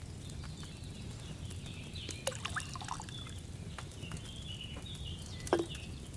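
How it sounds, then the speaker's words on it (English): Wine trickles softly into a cauldron in the medieval video game Kingdom Come: Deliverance II. The faint pour sits under a quiet ambient bed, with a few light clinks and a brief splash near the end. "So, what did you pour in there? Wine, of course."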